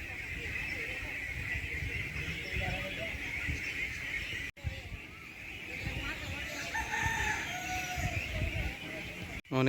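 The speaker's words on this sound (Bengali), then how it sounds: "অনেকগুলো হাঁসের বাচ্চা" Many ducklings at a village duck farm peep in a dense, continuous high chorus that sounds fairly close and steady, with one brief break partway through.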